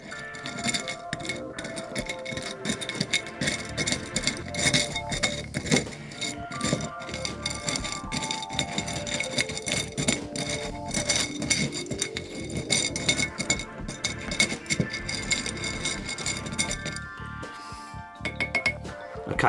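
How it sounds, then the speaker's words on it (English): Rusty nails are stirred in vinegar inside a glass jar, giving a continuous clinking and rattling of metal against glass that stays busy and fairly close throughout. "I'm going to take the lid off and I'm going to give it all a nice stirring up"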